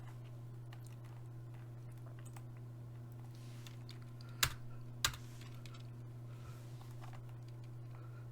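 Soft, sparse clicks of a computer keyboard over a steady electrical hum, with two sharper key presses close together in the middle.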